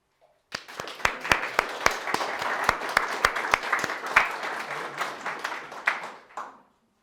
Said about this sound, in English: By clapping, of course.